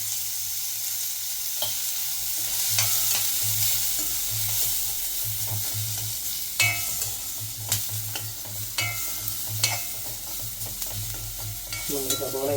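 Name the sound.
onions and chakka frying and being stirred in pan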